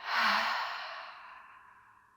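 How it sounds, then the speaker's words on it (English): A single long, breathy exhale through an open mouth during yoga breathing, rising quickly and then trailing off softly over about two seconds, close to the microphone with no talking. "Open your mouth and exhale."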